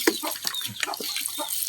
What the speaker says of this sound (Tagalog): yan siguro yung manok ko na nawawala mga lods